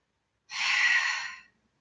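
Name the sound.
deep breathing during a Pilates plank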